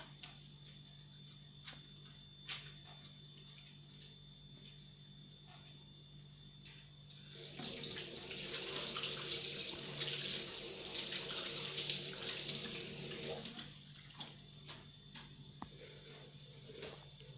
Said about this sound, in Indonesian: Kita cuci tangan menggunakan sabun dan 6 langkah.